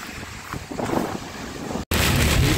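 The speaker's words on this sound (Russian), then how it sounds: "Блять, ураган, вообще пиздец." Hurricane-strength wind roars and buffets a microphone outdoors, a loud continuous rush with gusts, broken by a brief dropout before the blast resumes even stronger.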